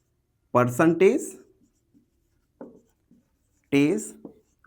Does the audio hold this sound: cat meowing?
no